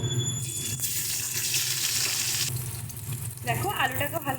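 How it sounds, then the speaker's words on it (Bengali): Potato pieces fry in oil left over from frying duck eggs, a dense sizzle with some clatter and a brief watery or tonal sound near the end. "এবার আমরা এই ডিম ভাজার তেলের মধ্যেই আলুটা দিয়ে ভেজে নেবো"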